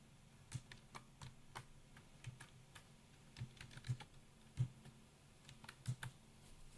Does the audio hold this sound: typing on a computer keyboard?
yes